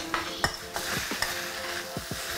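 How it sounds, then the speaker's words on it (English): Precooked noodles tossed in hot vegetable oil in a pan, with a faint steady sizzle broken by several sharp scraping clinks of the utensil stirring them, quiet and close. "just keep stir frying it till it's nice and hot"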